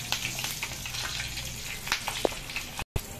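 Dried chilies fry in hot oil, giving a close, steady crackling sizzle with scattered pops and a brief stir near the end.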